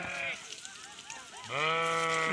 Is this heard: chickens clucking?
no